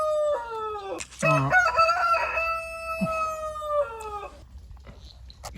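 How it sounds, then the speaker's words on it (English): A rooster crows loudly and close by, with the clucking of a few chickens around it and short squawks, in a yard next to a car being worked on. "Excuse the chickens."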